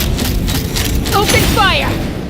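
A gunfire volley booms in Genshin Impact during a Flower-Feather Clan quest, a dense rumbling burst under a shouted voice and bright ringing tones.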